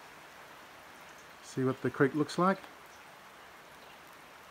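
Steady, soft rain falls outdoors near a creek and a shack, a constant faint hiss under a man's brief speech.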